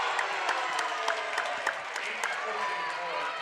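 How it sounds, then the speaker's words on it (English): Applause and cheering rise from the student section at a varsity boys basketball game after a made corner three, with dense rapid clapping and scattered shouts, fairly loud and sustained. "The crowd really liked that one"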